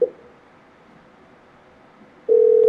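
A telephone call is placed: a brief tone, a quiet pause of line hiss, then a loud steady ringback tone starts near the end, heard alone.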